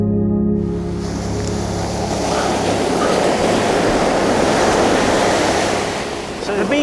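Waves wash onto a beach in a loud, continuous roar of surf and wind buffeting the microphone, with a brief low hum at the very start.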